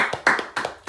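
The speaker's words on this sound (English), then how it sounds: "Can I get a round of applause?" A few sparse hand claps, as from one or two people: four distinct claps in a loose rhythm within one second, close and moderately faint.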